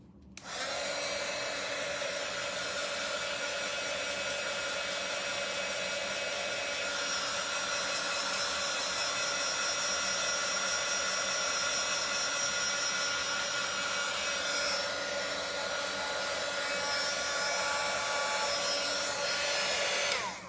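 A hair dryer blows steadily and loudly on a repurposed chair, its even whine and rush of air running unbroken for the whole stretch with no voices.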